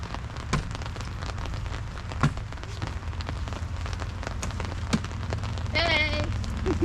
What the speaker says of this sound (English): And now it's raining really hard.